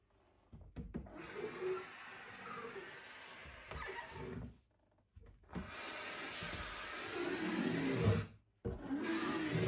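A Dupray Neat steam cleaner working inside something with an attachment, giving a steady hissing, rubbing rush that stops twice briefly and then resumes, close and moderately loud.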